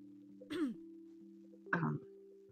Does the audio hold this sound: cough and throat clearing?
yes